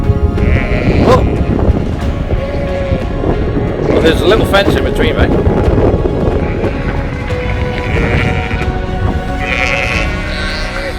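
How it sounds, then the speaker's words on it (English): Sheep bleat repeatedly, loud and close, as a flock runs toward someone across a fence, with wind buffeting the microphone and someone talking over them. "Oh, got sheep running at me."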